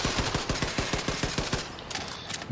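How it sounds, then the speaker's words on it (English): Rapid automatic gunfire from Wolfenstein II: The New Colossus, a fast, even string of loud close shots rattling for about two seconds before trailing off. "These bullets that I'm currently shooting must be a lot better."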